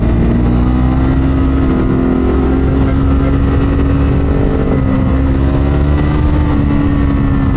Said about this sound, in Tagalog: Ang gaan ng motor. Kahit third gear, may gulat factor.